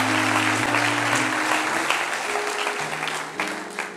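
A church congregation applauds steadily and loudly throughout, a dense wash of clapping with a low hum of voices underneath.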